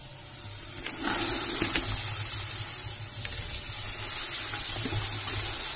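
Green beans sautéing in a pan give a steady, close sizzling hiss that swells briefly near the start and then holds loud and even, with a few faint clinks of utensils and no voices.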